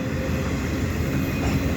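A CN freight train hauling empty welded rail cars rumbles past nearby on a drizzly winter day, a dense steady low roar with rhythmic wheel clatter.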